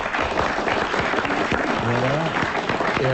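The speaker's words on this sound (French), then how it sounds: "il a bien mérité, Monsieur Félix de Poitiers, qu'on l'applaudisse" Studio audience at a French comedy radio show applauding a guest, dense steady clapping from a full room, close and loud, with a voice briefly speaking over it.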